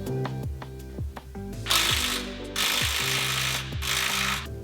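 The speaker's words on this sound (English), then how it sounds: "to get this coilover out, we're undoing the three top nuts and pulling out the bottom bolt." A ratchet undoing the coilover top nuts on a 5th-gen Toyota 4Runner during a suspension job, with rapid clicking strokes repeated at close range, broken by stretches of rougher mechanical whirring, and nobody speaking.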